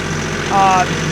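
Kioti CK4010 compact tractor, a 2017 39-horsepower loader, its diesel engine idling and then briefly rising in pitch as the throttle is bumped up, steady and close.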